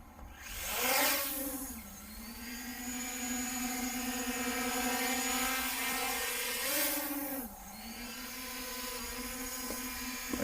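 A Holy Stone 720E drone's propellers spin up and whir for takeoff with a loud, close, high-pitched whine that rises, holds steady, then shifts pitch as it climbs and adjusts.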